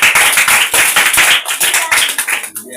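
Children in a classroom clap together in quick, slightly ragged bursts, loud and close, with a brief break partway through and a tapering end.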